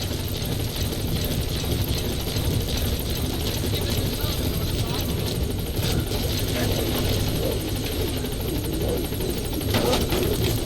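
A support helicopter in the video game Metal Gear Solid V: The Phantom Pain drones with a steady, loud rotor and engine roar throughout, while radio voices talk over it.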